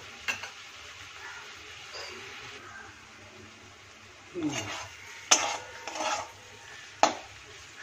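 Spices frying in a pan for a Bengali rohu fish curry are stirred, with soft sizzling under scraping utensil strokes and a few sharp clinks of metal on the pan near the end.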